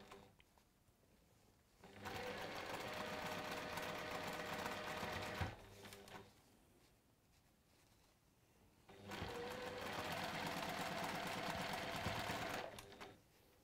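A sewing machine stitches fabric pieces together in pairs in a workshop, two rapid mechanical bursts of several seconds each separated by a quiet pause.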